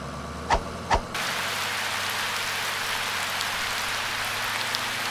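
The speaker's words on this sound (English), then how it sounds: "In the rain," Steady rain pours down in a continuous hiss after two brief thumps at the start.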